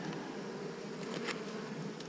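Honeybees buzz around beehive frames as drone frames are put into the hive, a steady close hum with no voices.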